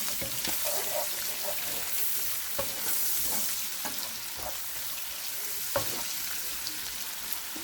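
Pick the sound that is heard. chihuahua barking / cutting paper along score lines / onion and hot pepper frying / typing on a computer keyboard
onion and hot pepper frying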